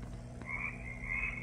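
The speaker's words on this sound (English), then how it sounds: "Oh, you woke up the frog." A frog croaks in two drawn-out bursts over a steady low hum, fairly close and moderately loud, with no talking over it.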